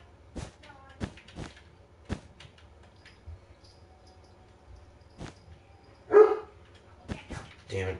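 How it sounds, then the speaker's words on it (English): A pet dog barks in short, sharp, scattered bursts somewhere in the house, with one louder yelp among them, and a person talks in between. "Damn it, my dog's barking again."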